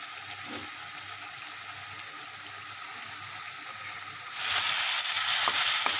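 Onion, garlic and chili paste frying in oil for a mutton dish gives a soft, steady sizzle close by that grows noticeably louder and brighter near the end, with no one speaking.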